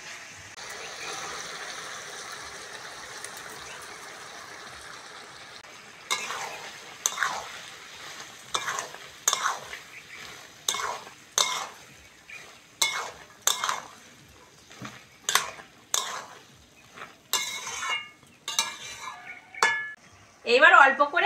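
Boiled peas being stirred into potatoes and spices frying in a pan, with a soft sizzle under repeated scraping stirs and utensil clinks against the pot, coming in short bursts close by.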